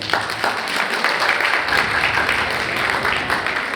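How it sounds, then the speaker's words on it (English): Steady, dense audience applause fills an awards ceremony hall, a continuous wash of many hands clapping at even loudness with no voices. "Round of applause, please."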